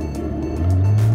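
Hand-controlled car on a track accelerating, engine rumble heard from inside that rises into a louder steady drone partway through, brief and close.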